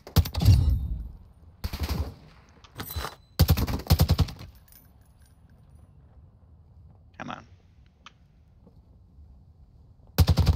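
Bursts of automatic gunfire aimed at a helicopter in the Call of Duty DMZ video game, loud, close and rapid, in several separate volleys with quiet gaps between them and faint background noise in the pauses.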